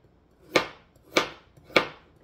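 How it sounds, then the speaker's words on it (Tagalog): A knife chops carrots into round slices on a cutting board, three crisp, evenly spaced thuds about six tenths of a second apart, close and clear in a quiet kitchen. "Ang hiwa ng carrots, pabilog lang siya."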